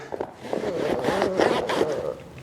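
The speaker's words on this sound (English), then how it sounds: "We'll wipe the zipper, we'll open, we'll shut." A bagpipe bag's zipper is run open and shut in a few quick rasping pulls, close up and fairly loud, with no talking.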